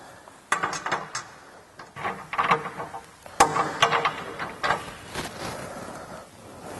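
Small metal bolts, nuts and washers clinking and rattling while a skid plate is fitted, a series of close, sharp clicks and jingles with short pauses between them.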